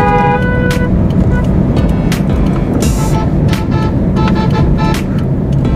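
Heavy traffic on the Dhaka–Mymensingh highway near Rajendrapur roars loudly and constantly, with passing cars, buses and trucks and brief horn toots cutting through the dense road noise.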